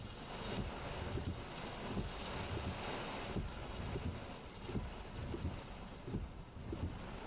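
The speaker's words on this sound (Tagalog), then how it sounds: "Pero pag nakaalpas tayo dito, iwawagwag ka ng hangin" Strong wind gusts roar over open water aboard a moving boat, buffeting the microphone with a constant rumbling rush and splashing waves beneath.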